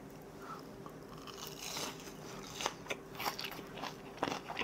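Someone bites and chews crispy deep-fried mandarin fish outdoors, close crunching bites coming in irregular bursts with no talk.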